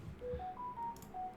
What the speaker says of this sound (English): That's my new phone going.